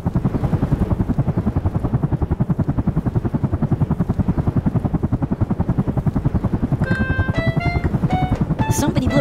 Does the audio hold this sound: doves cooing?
no